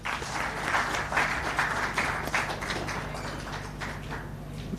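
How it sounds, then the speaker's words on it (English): Conference audience at an IPO event applauding steadily for several seconds, a dense wash of many hands clapping together without voices, slowly fading toward the end. "Another round of applause for Keith Karejira"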